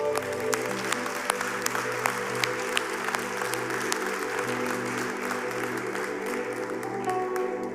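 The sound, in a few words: applause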